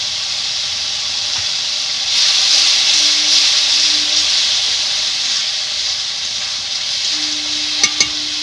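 Cumin paste hitting a hot pan with a splash of water, giving a steady sizzling hiss that swells midway and carries on alone, with a couple of small clinks near the end.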